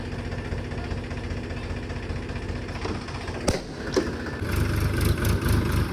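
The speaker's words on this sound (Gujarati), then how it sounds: "ચાલુ કરી દીધું છે અમારે" A tractor's diesel engine idles with a low, steady rhythmic chug, a couple of sharp clicks partway, then the rumble grows slightly louder and rougher.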